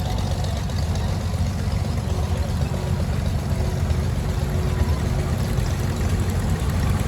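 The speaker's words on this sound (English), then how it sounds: "Pat Tipper from the Gavin Road in Wisconsin, a 74 International Hydro 100. Beautiful tractor." A 1974 International Hydro 100 tractor idles steadily at a classic tractor show, a continuous low engine rumble with no clear change in pitch, heard alone at moderate loudness.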